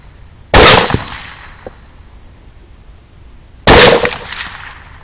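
Two loud, sharp gunshots aimed at hogs beyond a fence, spaced about three seconds apart, each ringing off with a short decaying tail over quiet outdoor background.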